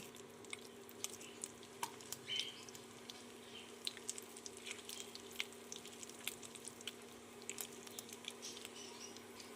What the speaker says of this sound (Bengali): ফোড়নে দিয়ে দেব শুকনো লঙ্কা গোটা জিরে তেজপাতা